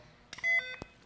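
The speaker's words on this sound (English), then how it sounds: "you hear that? Beep, beep." Short electronic beeps from a tester as a tripped breaker cuts power, a few quick tones with one held note, close and fairly clear.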